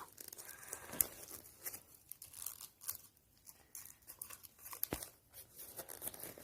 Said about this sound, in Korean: 여기 부분을 좀 내려주세요. 내리고 접어주세요.